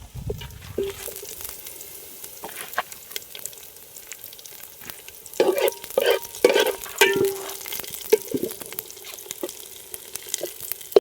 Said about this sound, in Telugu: మనం వేసుకున్న ఎర్రగడ్డలు గోల్డెన్ కలర్కి వేగాక కొన్ని పచ్చిమిరపకాయలు అయితే వేసుకుందాం